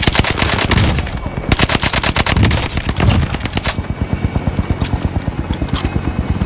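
Rapid automatic gunfire in a battle royale video game, loud and close. Dense bursts at the start settle into a steady, evenly spaced stream of shots, with no talk over it.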